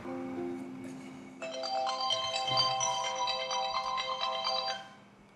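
Telephone ringtone in a home, a bright electronic melody that starts over a low tone, plays steadily for a few seconds and then stops, fairly close and without talk.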